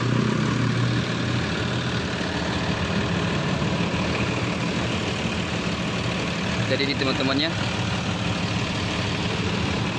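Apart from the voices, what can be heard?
Mercedes-Benz 1623 front-engine bus engine idling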